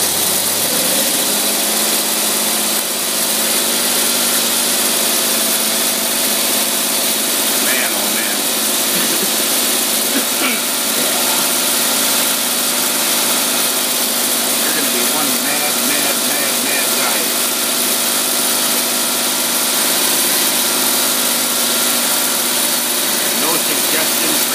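Car engine fitted with a Holley carburetor, steady loud idle with a broad mechanical roar that rises slightly as it accelerates, running alone close by for the whole stretch.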